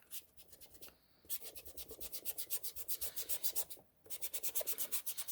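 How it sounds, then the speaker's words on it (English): A paintbrush loaded with paint is scrubbed hard back and forth for dry-brushing, making a steady rhythmic rasping rub with two short pauses, close and fairly loud with no talk. "To have a good dry brush, you should have to really scrub to get that paint to come off of the brush."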